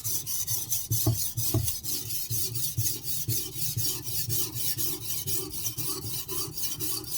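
A knife blade is drawn across a sharpening stone on a wooden workbench in steady back-and-forth rasping strokes, close and continuous with a few sharper scrapes, and no talking.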